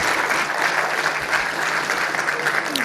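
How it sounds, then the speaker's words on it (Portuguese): An audience at a Brazilian rail infrastructure forum claps in sustained, dense applause that stays steady throughout. "Uma salva de palmas para ele."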